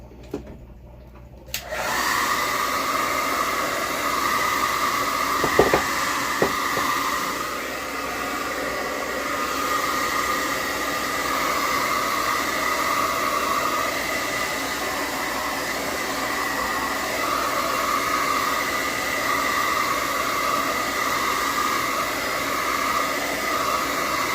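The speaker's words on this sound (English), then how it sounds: "And use my hair dryer again." A hair dryer blows steadily and loudly throughout after a brief quiet start, with a constant whooshing hum and a couple of small clicks.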